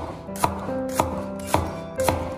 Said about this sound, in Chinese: 切丝的时候要这样竖着切